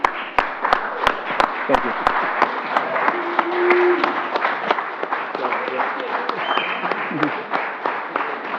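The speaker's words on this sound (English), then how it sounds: "I'd like to give him a round of applause." Applause from the audience at a city council meeting: a dense patter of clapping fills the room, with a few sharp claps standing out at the start, while a voice speaks briefly over it.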